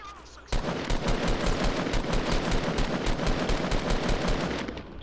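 Rapid, loud automatic gunfire rattles without pause in the Fortnite battle royale at Tilted Towers, a dense burst of shots that fades slightly at the end.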